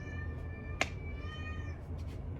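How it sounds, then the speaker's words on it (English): A hungry cat meowing indoors, a drawn-out tonal meow followed by a second, softer one, close and fairly quiet against a low background hum. "my cat's hungry right now"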